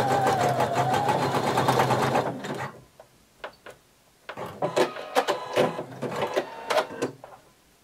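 A sewing machine runs a very wide zigzag stitch over overlapped swimsuit elastic: a steady rapid whirring burst, a pause, then several short stop-start stitching runs, close and clear with no talking.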